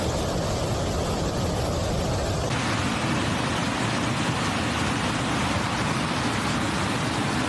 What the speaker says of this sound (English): In the Valencia region, 490 millimeters of rain fell in 8 hours